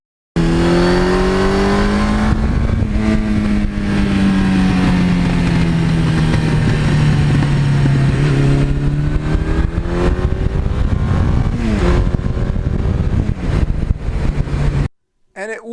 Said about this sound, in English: it's got a nice quiet exhaust with a nice little rumble in there